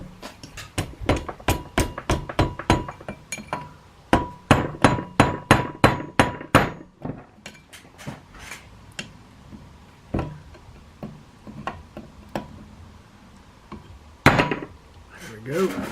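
A hammer taps metal lock tabs on a 1969 Honda CL160 engine during a rebuild, landing in close, sharp, rhythmic bursts of strikes with brief pauses between them.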